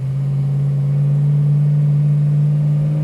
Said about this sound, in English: Listen to the tone on that exhaust, man.